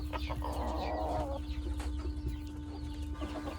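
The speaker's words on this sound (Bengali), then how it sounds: "আর এটা আমার আছে গোল্ডেন পেন্টেড সিল্কি এটা মেল ওটা ফিমেল" Silkie chickens clucking softly nearby, with a burst of busy vocalizing early on over a steady background hum.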